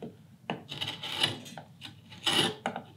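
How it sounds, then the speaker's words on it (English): A sharp wood gouge cutting across the grain, a series of short, quiet scraping and rasping strokes at close range, each lasting a fraction of a second with brief pauses between, no talking. "here I'm going across the grain, because it works very effectively with the right chisel, a good sharp gouge"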